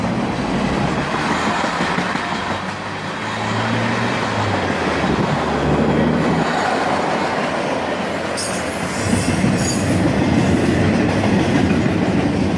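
A CSX freight train rolls past outdoors on a hot summer day, its cars rumbling and clacking steadily along the rails for the whole stretch, loud and close, with a brief high wheel squeal near the end.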